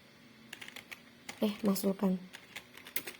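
Computer keyboard typing while coding a C# console calculator, a run of scattered key clicks that speeds into a quick cluster of taps, with a person talking over it.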